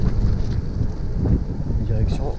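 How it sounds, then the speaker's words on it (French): Wind rushes across the microphone in a steady low roar during a gravel bike ride along the Seine loop near Sartrouville and Bezons, gusting slightly throughout. "Et il y a un petit vent."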